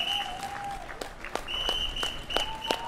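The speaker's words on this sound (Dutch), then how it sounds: "5 minuten lang klappen voor de zorg." Crowd gathered outside a hospital clapping in tribute to healthcare and intensive care staff during the coronavirus period; steady applause with scattered sharp claps and a few whistles throughout.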